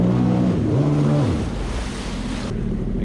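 A Sea-Doo Spark Trixx personal watercraft revs up on the water, its engine pitch sliding upward twice under rushing wind and splashing spray, loud and close throughout.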